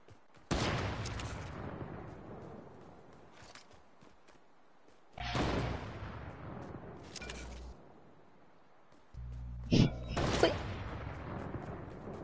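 Gunfire sounds in a shooter video game as loud bursts of rapid shots that come in several separate volleys, each trailing off in a booming echo, with no talking over them.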